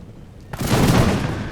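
Infantry line in a Napoleonic-era battle video game firing a musket volley: quiet background, then a sudden ragged crackling burst of many shots that swells into a rolling boom and lingers.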